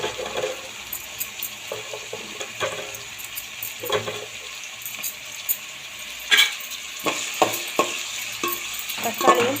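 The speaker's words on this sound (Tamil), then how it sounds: "பச்சை மிளகாயும் போட்டு நல்லா வதக்கணும் வதக்கிட்டு லைட்டாக தக்காளி வதங்கணும்" Tomatoes and green chillies sauté in a pan for chicken gravy, with a bubbling sizzle broken by frequent sharp clinks and scrapes of a metal spoon against the pan and no voices.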